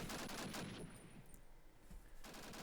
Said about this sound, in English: That sniper pinging off.